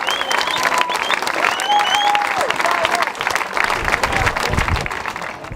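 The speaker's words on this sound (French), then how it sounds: "vous pouvez vous applaudir" A crowd at an outdoor charity run event in 2015 applauds volunteers, with sustained dense clapping over a murmur of voices and whistles, steady and loud throughout.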